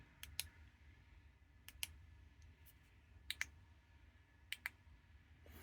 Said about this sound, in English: These buttons are very, satisfyingly clicky